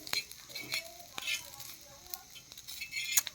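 Field grasshoppers frying in a pan, soft sizzling with a utensil stirring and clinking against the metal, near and fairly quiet, with light irregular scraping taps.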